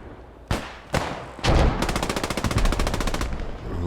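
An MG42 machine gun fires in a video game: two single shots, then a sustained rapid burst of evenly spaced rounds, loud and close, with no voices.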